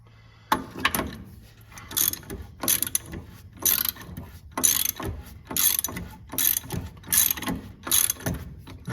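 A ratchet turns a castle nut off the front end of an 88–98 Chevy truck during lowering work. Close, crisp pawl clicks come in quick, even bursts, repeating steadily with no talk.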